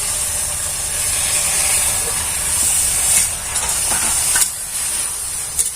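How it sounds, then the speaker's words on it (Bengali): Water poured over hot roasted semolina in a pan gives off a loud, continuous hiss of steam, with a few soft scrapes and knocks of stirring near the end. "এবার অল্প অল্প জল দিয়ে দেবো দিয়ে একটা ডো তৈরি করে নেবো"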